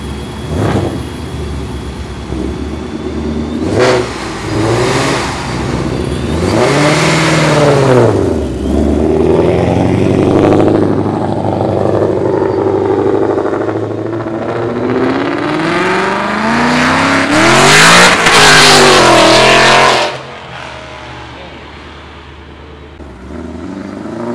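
Several Ford Mustang cars, including S550s, rev hard and accelerate away in succession, engines roaring loudly with rising pitch sweeps before fading into the distance.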